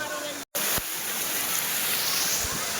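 The Jata Shankar waterfall in Gir forest, Junagadh, gives a steady, close wash of falling water, broken by one brief dropout and a couple of faint thumps.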